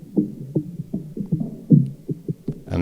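Experimental drum loop with most highs and lows filtered out, giving muffled, thudding hits in an uneven repeating rhythm, close and alone.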